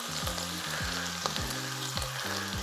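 Steady sizzling and crackling of beef frying in a hot pan, with the roughly periodic descending bursts overlaid.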